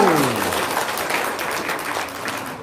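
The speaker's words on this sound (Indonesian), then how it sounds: "Iya, tepuk tangan dulu dong." Applause from a gathering at a Maulid Nabi religious event, a soft wash of many hands clapping at moderate distance, with a trailing voice fading at the start.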